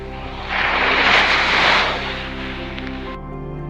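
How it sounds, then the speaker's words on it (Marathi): Strong sea waves at high tide surge and crash close by, a loud broad wash swelling and then easing, with a steady low hum running underneath. "लाटा बघ ना कसल्या मजबूत येत आहेत"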